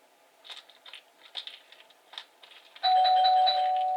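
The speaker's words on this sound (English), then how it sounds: "that's my doorbell" A doorbell chimes loudly with sustained ringing tones, following a stretch of soft crinkling and tapping sounds from handmade gift box papercraft with metal-rimmed pearls.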